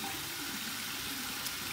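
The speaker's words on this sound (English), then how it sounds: "So we're gonna go with a warm water rinse here" Warm water runs steadily from a bathroom tap for a shaving rinse, a soft continuous hiss of flowing water with no voices.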